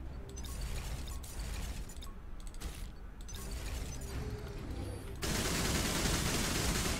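Rapid mechanical gunfire from a weapon in the game Mothergunship, a fast crackling and clattering stream of shots with ratcheting mechanism sounds, giving way near the end to a loud, dense roar of noise.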